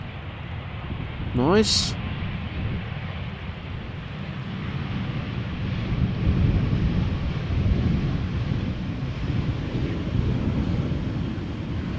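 Airliner thrust reversers on landing at Amsterdam Schiphol, a broad, sustained low roar heard from a distance that builds and holds for several seconds, mixed with wind noise, with a brief voice speaking early on.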